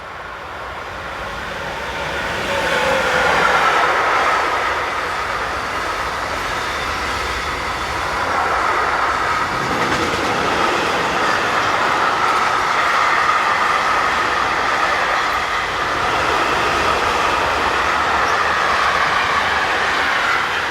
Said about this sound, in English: 145025 heads north with train EZ 51822 from Mannheim to Leipzig.